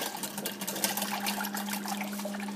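Oil and vinegar being whisked into a vinaigrette, giving a quiet, rapid, steady rattling swish of a whisk against a bowl with a faint hum underneath.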